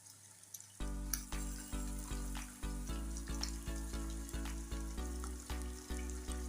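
Minced meat frying in a pan with ginger, garlic and onion, a loud steady sizzle broken by regular rhythmic stirring scrapes, close and alone without talk.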